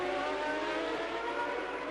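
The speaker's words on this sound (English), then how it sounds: "And off goes the Tyrrell of Satoru Nakajima" A Tyrrell Formula 1 car at the 1990 Hungarian Grand Prix at the Hungaroring screams with a steady high engine whine, heard faintly as a broadcast-style sound.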